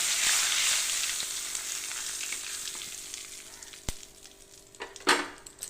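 Dried red chillies, a bay leaf and whole cumin seeds crackle in hot mustard oil, a dense close sizzle that eases gradually, broken by a couple of sharp pops and a clatter near the end.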